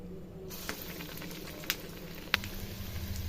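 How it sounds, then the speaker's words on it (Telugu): Crispy lentil dough rounds (babbera pappu garelu) frying in hot oil give a quiet, steady sizzle with a few sharp pops and crackles scattered through. "ఈ విధంగా వేసుకొని ఫ్రై చేసుకుందాం"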